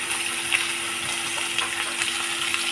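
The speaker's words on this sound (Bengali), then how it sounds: "এবার আলুগুলো ভেজে নেবো।" Potatoes frying in mustard oil give a soft, steady sizzle and bubbling hiss close by, even and unbroken, with a faint hum underneath.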